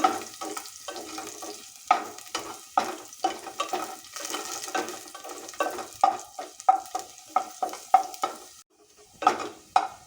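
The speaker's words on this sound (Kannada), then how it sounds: "ಬೆಳ್ಳುಳ್ಳಿ ಕಟ್ ಮಾಡಿ ಹಾಕ್ಕೊಳ್ತಾ ಇದ್ದೀನಿ" Chopped garlic frying in a pan for a taro leaf gojju, with a soft sizzle under a busy, rhythmic scrape and clatter of a spatula that pauses briefly near the end, no talking.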